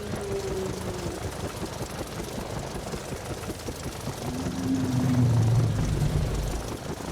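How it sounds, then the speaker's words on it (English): In the hunting video game Prehistoric Hunt, a helicopter flies in with a continuous rhythmic rotor chop and engine drone that swells louder toward the end. "I kind of wish the helicopter wasn't coming in as it was."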